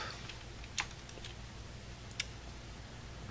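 A few faint, isolated computer keyboard keypresses for 3D modeling shortcuts, soft clicks spaced over a quiet room hum.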